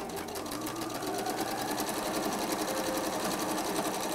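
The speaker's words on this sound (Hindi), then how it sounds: "अब हम इसको थोड़ा नीचे से शुरू करेंगे सिलाई" A sewing machine stitches binding onto a quilted table mat with a fast, even mechanical whirr and clatter that runs steadily and close up. No one speaks over it.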